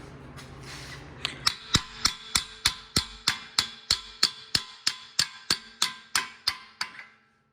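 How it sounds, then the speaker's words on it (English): Steady metallic hammer blows ring out in a fast, even rhythm, about twenty sharp strikes on the axle parts of a Toyota Highlander 3.5 during a passenger-side CV axle replacement, close and loud, then stopping abruptly. "So we're gonna use a hammer."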